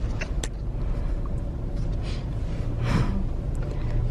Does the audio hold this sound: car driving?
yes